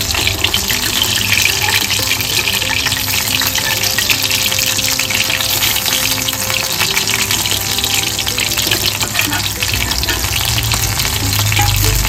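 Chicken wings frying in hot oil, restaurant style, with a dense, loud, continuous crackling sizzle close by that keeps going without a break and with no one talking.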